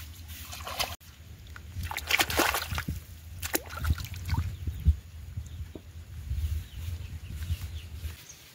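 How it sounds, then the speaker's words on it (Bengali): Taro stolons and leaves being washed by hand in pond water outdoors, irregular splashes and sloshing bursts close by with soft thuds, a faint low hum and birds in the background. "এখন আগে একটু ধুয়ে নিচ্ছি, পরে বেছে কেটে আবার কিন্তু ধুয়ে নেব"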